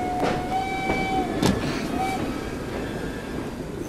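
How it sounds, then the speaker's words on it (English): A moving train in Assassin's Creed Syndicate rumbles steadily throughout, with a few brief tonal squeals and a sharp metallic clank near the middle over the constant rolling roar. "Yeah, this is our train."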